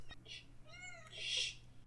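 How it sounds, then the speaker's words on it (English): Two short, close meows from a large cat, the second rising then falling, heard in a quiet room with a low electrical hum underneath. "Meow. Meow."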